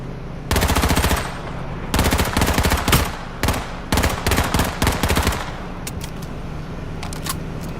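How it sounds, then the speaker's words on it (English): Rapid, loud bursts of Uzi fire in the video game H1Z1 rattle in several long strings separated by brief gaps, then trail off into a few scattered distant shots. "trying to get him with the Uzi or the Hellfire"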